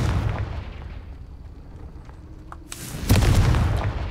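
Confringo spell explosion in Hogwarts Legacy: after a murky, low rumbling lull, a sudden bright crack bursts into a loud, booming blast that rolls on for about a second.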